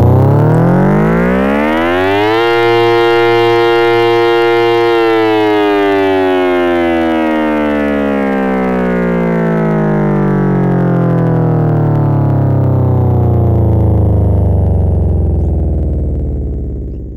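Scream Master siren at a 6/8 pulse, winding sharply up, holding a loud wailing pitch, then slowly sliding back down over a long sweep, alone and close.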